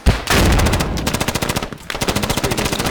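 Rapid automatic gunfire from the military shooter Squad during a large 80-player battle, dense overlapping bursts of shots rattling continuously and loudly with brief gaps.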